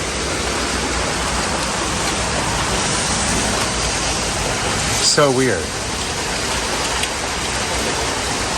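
Heavy rain pours outdoors as a dense, constant hiss, loud and close, with a brief spoken exclamation partway through.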